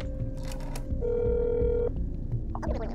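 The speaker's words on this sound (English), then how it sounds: "I'm gonna phone your apartment." Telephone ringing inside the video game That's Not My Neighbour, a steady electronic ring tone held for about a second over a low background hum, with a brief burst of other game sounds at the end.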